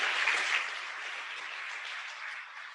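An audience at a campus celebration applauds zero-cost textbook programs, a broad wash of clapping that starts strong and tapers slightly, with no voices over it.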